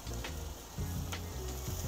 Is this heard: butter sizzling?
yes